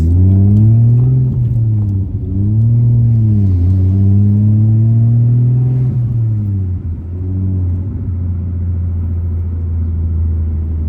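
A Nissan Skyline R32 GT-R with a manual gearbox driven on the road, its engine loud and close from inside the cabin, rising and falling through several revs and gear changes, with no one talking.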